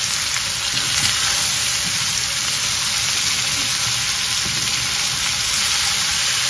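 Steady, loud sizzling of white zucchini frying in a hot pan, a dense crackling hiss that continues unbroken throughout.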